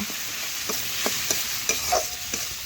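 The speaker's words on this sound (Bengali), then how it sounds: "মশলা ভালোভাবে পেঁয়াজের সাথে নাড়াচাড়া করে মিশিয়ে আমি একটু কষে নেব" Spices and onion being stirred in a frying pan for a light chicken curry, with a steady soft sizzle and several short scraping strokes of the spoon at an irregular pace, close up and without speech.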